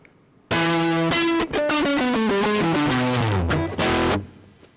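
Guitar recording run through a distortion effect in the Pedalboard Python library, giving a dense, saturated, aggressive tone across a series of descending notes and chords, loud and continuous for about four seconds with brief gaps, no speech.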